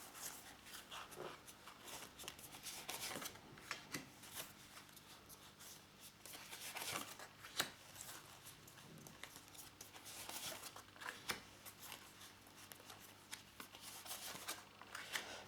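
Oracle cards shuffled and drawn by hand during a general guidance reading, a steady soft patter of card riffles and slides with brief sharper flicks, close and quiet, with no talking.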